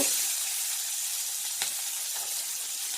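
Onion dropped into hot leftover fish-frying oil in a kadai, giving a continuous bright hissing sizzle that stays steady and close, with a faint clink partway through, no talking.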